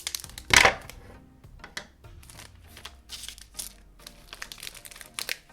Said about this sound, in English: We have my trusty scissors. We're just gonna cut off the top.